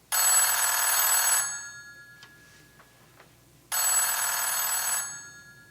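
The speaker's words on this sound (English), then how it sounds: "The phone is ringing. Let it ring." A telephone bell rings in two loud bursts separated by a quiet gap with faint ticks, the sound effect in a live old-time radio mystery drama, with no voices over it.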